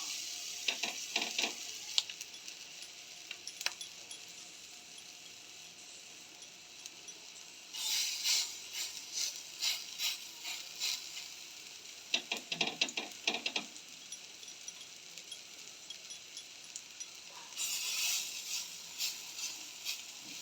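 Vadas frying in hot oil in a home kitchen, a soft steady sizzle broken by several louder bursts of crackling as batter is stirred or turned, no talk.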